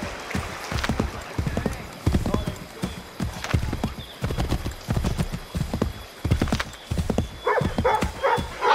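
Horse hooves clip-clopping in a quick, regular rhythm while riding in Assassin's Creed 3. The hoof falls sound close and continuous, with a whinny and speech heard over them toward the end.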